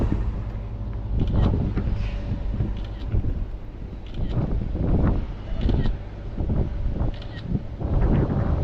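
Wind gusts buffet an outdoor microphone in Scotland while a drone flies a 360 shot, rumbling low in uneven surges with someone speaking intermittently over it.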